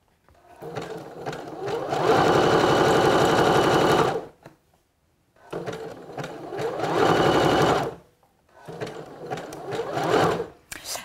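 A sewing machine stitches elastic onto a swimsuit in three close, loud bursts of rapid mechanical whirring, each a few seconds long and separated by short pauses, with no talk over it.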